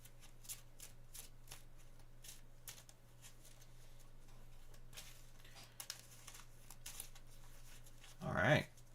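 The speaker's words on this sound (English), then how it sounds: "We'll shuffle our deck with Thor, and then we'll get rolling." Marvel Champions cards being shuffled at a table, soft rapid riffling and tapping spread through the clip under a steady low hum, ending in a louder burst of handling.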